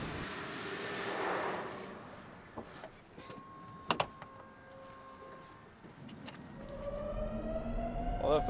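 A Lotus Evija electric hypercar on the move gives off a steady whirring whine with thin tonal hums that swell and rise toward the end, over road rumble and occasional sharp clicks.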